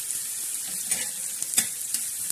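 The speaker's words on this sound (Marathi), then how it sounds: "तर आता आपला कांदा हा छान असा भाजून घेणार आहोत." Onion roasting on a griddle for black masala in village style, giving a steady soft sizzle and hiss with a few small crackles and pops, close and fairly quiet, no talking.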